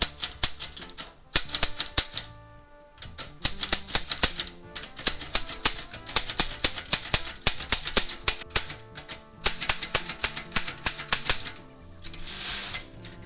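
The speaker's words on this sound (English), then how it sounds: "my newer favorite typewriter, the Underwood Star model" An Underwood Star typewriter types in rapid bursts of crisp, loud key strikes, with brief pauses and a carriage movement between runs, heard up close without speech.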